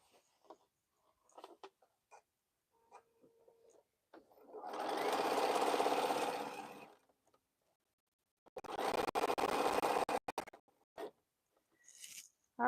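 A sewing machine stitching a quilt for a friend runs in two loud bursts, the first about two seconds long and the second shorter and choppier, separated by quiet handling clicks and rustles.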